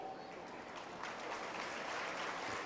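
Applause from an audience at a spoken address to children in an Acharya Vandanam programme, a steady wash of many hands clapping at moderate level throughout.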